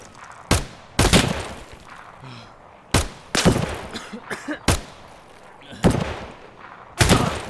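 Gunfire from a sniper in the game Escape From Tarkov: sharp, loud single shots fired at irregular intervals, each followed by a short echoing tail, with faint background movement between shots.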